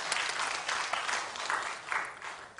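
A church evangelism training session fills with steady audience applause for a pastor, a dense wash of clapping that holds at an even level for nearly three seconds with no talking over it.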